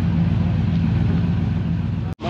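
A drag race car burning race gas idles with a loud, steady, lumpy low-pitched rumble close by, cut off abruptly near the end.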